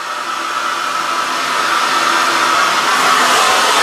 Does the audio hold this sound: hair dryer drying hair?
yes